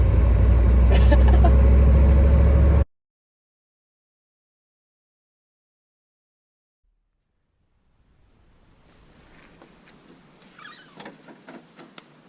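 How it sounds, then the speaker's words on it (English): A semi-truck rolls alongside on the road next to a diesel pickup towing scrap metal. A loud, steady roar fills the first few seconds and cuts off to silence, followed by faint, uneven road noise. "Dude, there's a semi-truck next to us, boy."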